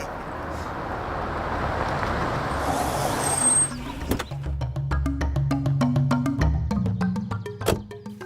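A vehicle rolls up with a rumbling engine, then a sharp hiss of air brakes, followed by a series of clicks and knocks while it idles nearby.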